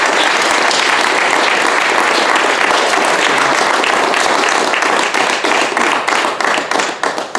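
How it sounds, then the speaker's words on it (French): A radio station's inauguration crowd gives a singer-songwriter sustained, dense applause that fills the room, thinning into scattered individual claps near the end. "J'aimerais qu'on l'applaudisse."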